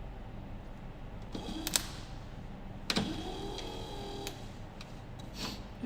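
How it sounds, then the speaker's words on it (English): An old Ford 4610 tractor's windscreen wiper motor runs with a strained, groaning whine that rises and falls in a few brief surges, with clicks and taps between them, close by and at moderate volume. "that's a working motor. It sounds groany as hell."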